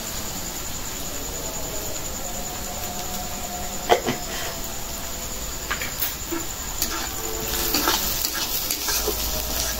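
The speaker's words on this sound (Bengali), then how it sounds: "পেঁয়াজটা প্রায় ভাজা হয়ে গেছে" Chopped onion frying in a pan, a low continuous sizzle with scattered small pops and stirring clicks, one sharper knock midway, no voices.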